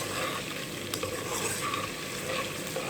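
Whole spices such as cloves, black pepper and cumin fry in a pan for a biryani, a soft continuous sizzle with gentle stirring, faint and close, no voices.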